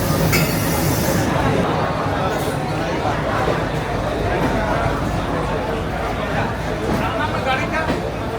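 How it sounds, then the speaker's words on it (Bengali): Howrah–Guwahati Saraighat Express rumbles into a station platform, a broad steady roar of the train beneath crowd babble and nearby talking, loud and continuous. "এই যে ট্রেন, আমাদের ট্রেন 12345 হাওড়া গুয়াহাটি সরাইঘাট এক্সপ্রেস 15 নম্বর প্ল্যাটফর্মে"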